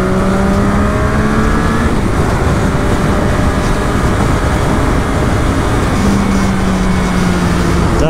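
A Triumph sport motorcycle carrying a passenger accelerates gently, its loud engine drone rising in pitch through two gear pulls under heavy wind rush, with no talking.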